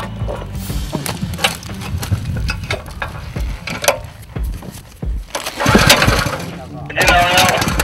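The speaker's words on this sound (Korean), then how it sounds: "자, 엔진 시동 거세요." A small water pump engine sputters and cranks amid clattering mechanical noise and nearby voices, catching into a rough, uneven running roar near the end.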